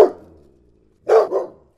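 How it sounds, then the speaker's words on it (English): A female dog barks for a treat during obedience training: two quick, loud barks close to the microphone, after a brief earlier sound and a short quiet gap. "she was barking to get a treat"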